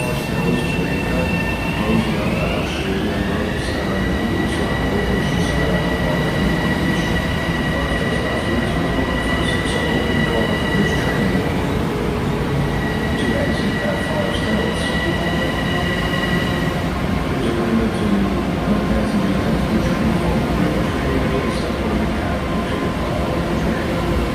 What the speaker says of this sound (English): the Babylon train is departing now